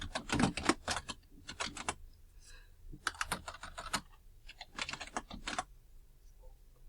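Keys clatter on a computer keyboard as a name is typed into a Skype for Business search, several close bursts of rapid keystrokes with short gaps between them.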